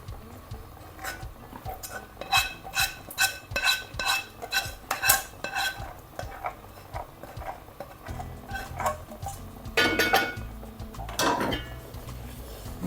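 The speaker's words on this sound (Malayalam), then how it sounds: "നല്ല മിക്സ് ചെയ്യേ" A spoon stirs sugar syrup into halwa in a metal pan, making a run of sharp clinks and scrapes in an uneven rhythm, close and fairly loud, with a couple of heavier scraping strokes near the end.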